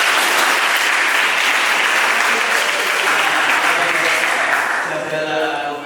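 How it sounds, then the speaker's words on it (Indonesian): An audience at an Islamic religious education session gives a sustained round of applause, loud dense clapping that thins out near the end. "Kita kasih tepuk tangan."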